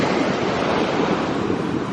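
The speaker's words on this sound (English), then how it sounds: "The waves on this side a little bit larger than the waves on the other side." Ocean waves roll onto a beach near Homer, Alaska, a loud, steady, broad wash of surf mixed with wind buffeting the microphone, constant throughout with no break.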